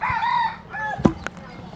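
A white rooster crows in a short wavering call, followed by a single sharp thump and a fainter knock against quiet background noise.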